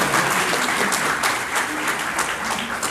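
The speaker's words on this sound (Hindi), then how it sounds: "आप तो इसमें ज़रा ताली वाली लगाओ इसके लिए" Dense audience clapping at a national convention of a social organization in India, a sustained burst of applause from a large hall crowd.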